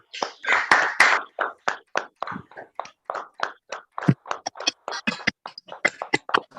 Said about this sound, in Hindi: एक बार सभी लोग अपने लिए, खुद की ऊर्जा के लिए और आज के महत्वपूर्ण दिन के लिए जोरदार तालियां बजाएंगे।